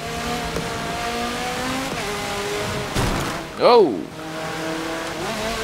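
A race car engine in Forza Motorsport 7 drones steadily, then drops through a downshift into a loud revving swell with a rising and falling pitch, followed by a steady engine note, with a brief spoken exclamation.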